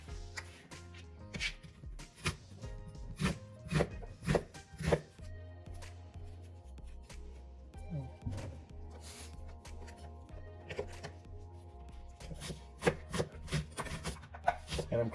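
A knife chops onions into large pieces on a cutting board, giving a run of sharp, irregular knocks up close that ease off briefly in the middle before picking up again.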